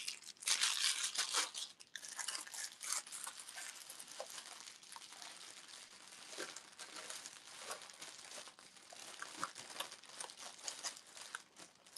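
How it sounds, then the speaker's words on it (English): A handmade craft item being unwrapped: loud crinkling and tearing of wrapping close up at first, then softer, irregular rustles and crunches continuing throughout. "Let's unwrap another one."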